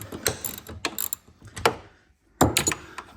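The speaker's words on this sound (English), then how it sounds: "that next nut I'm gonna have to pretty much use the normal wrench. So you just loosen it on up." A wrench works loose a nut on the rear shock of a 2003-2008 BMW Z4 E85, producing sharp metallic clicks and rattles in irregular short bursts, close and fairly loud with brief quiet gaps.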